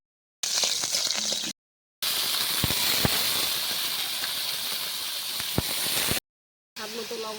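Green chillies hit hot oil in a wok and sizzle loudly, a steady bright hiss with a few crackles and pops, broken by brief silent cuts.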